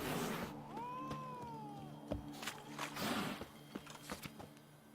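Several cats meow in The Witcher 3 game, with a clear drawn-out meow near the middle and shorter mews around it, heard over steady game ambience and scattered clicks.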